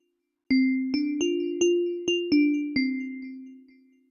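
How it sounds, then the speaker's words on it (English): A chime-like sampled tone rings out seven times in an uneven, melodic sequence, each strike bright and clear with a sustained ringing decay that overlaps the next, loud and close with nothing else heard. "I set out to find something that sounded similar to chimes, until I stumbled across this."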